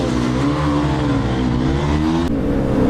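An RC races in a three-vehicle contest with an R15, giving a loud, steady engine drone held at high revs throughout, close and unbroken.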